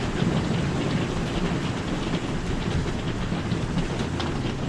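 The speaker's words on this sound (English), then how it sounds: "the rain is really starting to come down now" Heavy, steady rain roars in the video game Satisfactory with a dense hiss, loud and constant, with a deep low rumble beneath and no voices.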